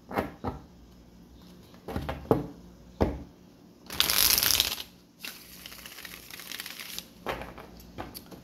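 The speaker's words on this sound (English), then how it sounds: "One more shuffle." Several quick riffling bursts of tarot cards being shuffled, close up, separated by short pauses, with one longer crisp flurry in the middle.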